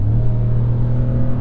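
Steady low rumble of a 2026 Ram 1500 Big Horn pickup's V-8 engine while cruising, a deep continuous drone with a mild rev swell, close and fairly loud, no voices.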